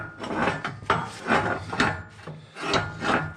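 Heavy custom mini excavator trailer hitch, made of steel, grinding and scraping as it is pushed into place in repeated rhythmic shoves, each a rough rasping slide, close and loud, with no voices.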